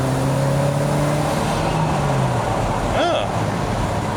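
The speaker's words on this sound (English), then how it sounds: "Downshifting into third. Let's see if it builds boost." A 1983 Lotus Esprit's turbo engine pulls hard in third gear after a downshift, a loud, continuous in-cabin drone with wind and road noise throughout; a gliding tone near the end hints at the turbo spooling.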